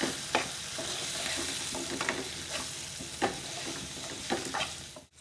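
Turmeric and coriander powder stirred into a sizzling pan for a Chettinad onion pulusu, a continuous hiss broken by repeated scraping spoon strokes at an uneven rhythm, close, fading out abruptly at the end.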